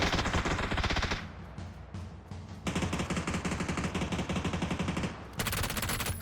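Rapid automatic gunfire from the video game PlayerUnknown's Battlegrounds, loud and continuous bursts of machine-gun fire with brief pauses between volleys.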